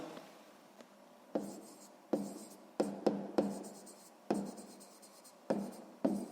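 Pen or chalk strokes scratch out numbers during a sixth-grade math lesson, coming in short, close, separate bursts with small pauses between them and no talk.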